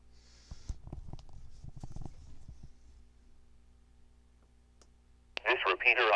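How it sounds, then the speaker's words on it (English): A two-way radio repeater's ID message, played from an audio file, bursts abruptly from the radio's speaker near the end. It follows a quiet stretch of faint clicks and handling noise. "This repeater ID uses audio MP3 files to play messages you can customize"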